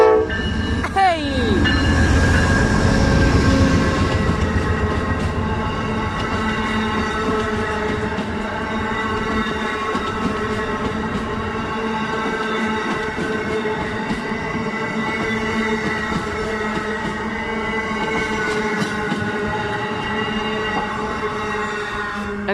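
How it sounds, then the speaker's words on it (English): An Amtrak train bound for New York City rolls past loudly and continuously, with a horn blast near the start and rumbling wheel noise and clatter throughout, and voices are faintly present. "this is actually the Amtrak that goes to New York City"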